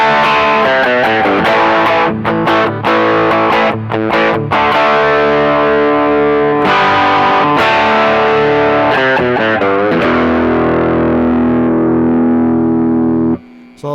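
Electric guitar played through the Brothers AM pedal with its distortion and boost stages engaged, producing a loud, saturated, sustaining tone of ringing chords and single notes for about fourteen seconds until an abrupt stop.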